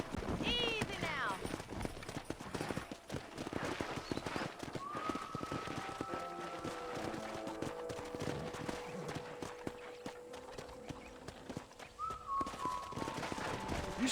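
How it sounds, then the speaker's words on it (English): Horse hooves clip-clop in steady rhythm across the wild-west video game Red Dead Redemption, accompanied by whistling tones and game ambience, with voices speaking over the hoofbeats throughout. "there's a pack of wild horses nearby"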